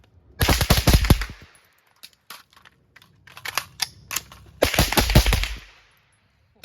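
Rapid strings of rifle shots from .22 and 5.56 rifles at a shooting range, two loud bursts of quick cracks separated by a quieter stretch of scattered single shots and clicks.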